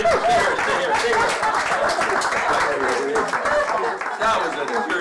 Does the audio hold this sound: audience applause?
yes